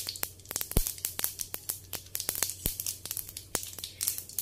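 Sharp, irregular pops and crackles of mustard seeds spitting in hot oil close by, bursting over a low background hiss, with no talking.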